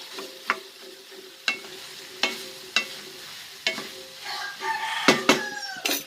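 Tomato and potato sauté in a pan for egg curry, a soft steady sizzle broken by regular sharp clinks of a spoon stirring against the pan, growing busier toward the end.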